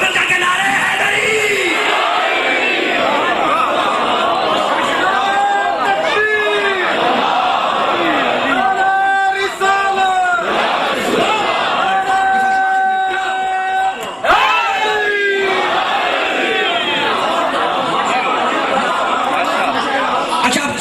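A packed crowd at a Muharram majlis in a Lahore imambargah shouts the Naara-e-Haidari slogan in loud, overlapping yells and chants, with rising and falling calls from many voices, lasting for about twenty seconds.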